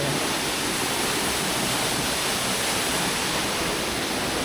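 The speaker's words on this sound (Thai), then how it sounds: "เห็นน้ำตกสวยๆแบบนี้" Huai Sinchai waterfall in Khong Chiam, Ubon Ratchathani, Thailand: a continuous, loud, broadband rush of falling water, steady and unbroken with no voices.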